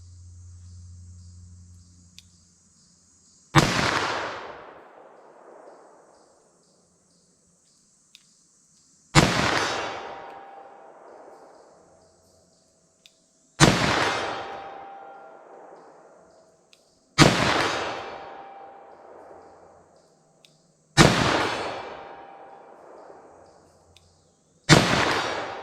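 Six loud .357 Magnum revolver shots with Underwood ammunition, fired slowly at a 75-yard target, each sharp crack followed by a long rolling echo and spaced several seconds apart with quiet between.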